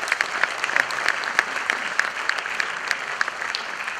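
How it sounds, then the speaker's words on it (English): An audience claps at a charity event for an animal welfare foundation, a steady round of applause with scattered sharp individual claps standing out, heard alone without speech. "this lady deserves, from me at least, a huge round of applause"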